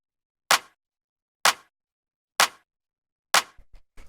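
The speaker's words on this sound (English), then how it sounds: "After that, we have the clap, which sounds like this." A short, dry clap sample from a synth-driven tech house track plays four times at an even pace, each hit crisp and isolated against silence, followed by a few faint low blips at the end.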